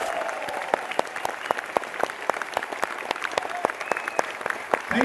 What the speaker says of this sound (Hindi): इस पर तालियां थोड़ी झूम के और बड़ी होनी चाहिए।